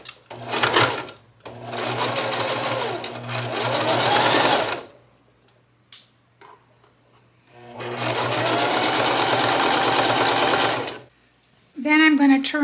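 A sewing machine straight-stitches a T-shirt hem with a half-inch allowance, running in two long steady bursts separated by a pause, close and fairly loud.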